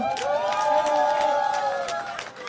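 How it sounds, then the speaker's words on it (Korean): A crowd at an outdoor election campaign rally near a market and intersection in Chungbuk, South Korea, cheers and claps loudly. A sustained wash of voices runs throughout, with raised shouting tones. "크게 박수 한번 보내주시면 어떨까요?"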